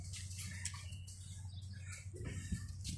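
Pigeons in an indoor bird room, with soft chirps and light calls scattered over a steady low hum. A few brief sharper calls stand out near the end.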